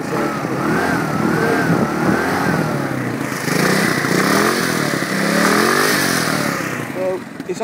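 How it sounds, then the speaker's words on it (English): A TGB R125X motorcycle engine revs up and drops repeatedly, a loud, close, rising and falling mid-pitched drone heard under someone talking throughout. "let me just go ahead and rev this up a little bit."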